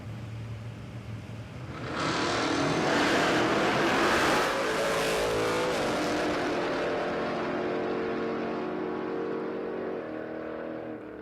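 An HG Holden drag car with a small block Chev engine launches at a drag strip, its engine swelling into a loud, sustained roar that holds for several seconds before fading away.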